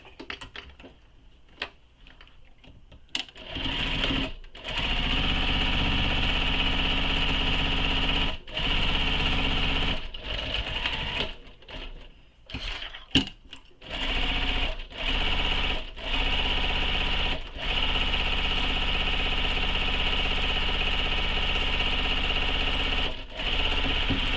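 Sewing machine stitching around a curve on a shoulder bag panel, in long runs of fast, steady, mechanical whirring broken by short stops and a few quick starts, close and fairly loud, with no talk.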